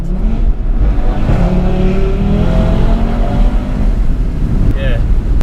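Loud engine drone from a 2018 Audi RS3 with a decat downpipe, a steady deep roar with rising tonal sweeps as it pulls and revs, continuous throughout with a brief higher whine near the end.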